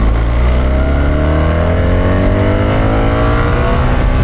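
A 2024 BMW R1300 GS motorcycle with an automatic gearbox pulls hard on the A50, its engine note climbing steadily in a loud, continuous rising drone with wind rush and no pauses.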